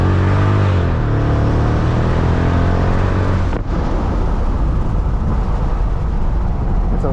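A supercharged 2005 Mercedes-Benz CL55 AMG C215 V8 roars under hard acceleration with rising pitch and climbs through the revs, with a brief dip near the middle as the pull continues loud and close.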